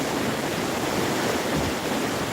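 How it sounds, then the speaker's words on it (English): Flowing water rushes in a dense, steady hiss, close and continuous with no pauses or voices. "Sound of the water is really relaxing to me."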